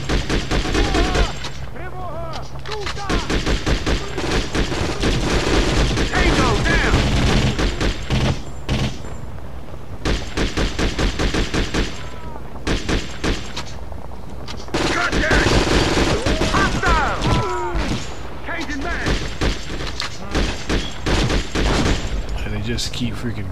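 Rapid automatic gunfire and heavy bursts rattle almost nonstop in the war video game Conflict: Global Terror, loud and dense, with brief gaps, and voices are heard shouting over the shooting.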